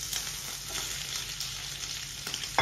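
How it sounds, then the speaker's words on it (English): Smoked pork sizzles in hot mustard oil in a pan, a steady close crackling hiss with occasional pops and a faint stir near the end, no voices. "in a pan, we will add little bit of mustard oil. Ishi na thali bhi, because we are going to fry the pork."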